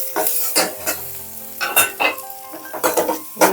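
Chopped ginger and garlic roasting in butter in a pan, bursts of loud sizzling broken up by repeated metal spoon scrapes and stirring knocks against the pan, close and busy.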